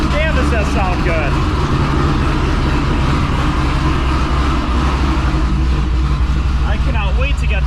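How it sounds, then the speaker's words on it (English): Loud idling of a big-cam supercharged LS7 V8 in an 800 hp Corvette Z06, a steady close, heavy rumble that fills the whole clip while a person talks over it. "there's nothing better sounding than a big cam LS7 V8"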